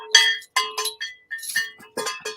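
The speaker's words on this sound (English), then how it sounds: "All the bells and chains are going." Bells jingle and chains rattle in a run of sharp metallic clinks and rings, coming in repeated bursts separated by short pauses, loud and close with no talk over them.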